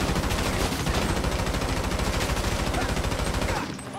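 Rapid sustained automatic gunfire in a GTA 5 Online shootout, loud and close, with dense rhythmic bursts running almost continuously before tapering off near the end.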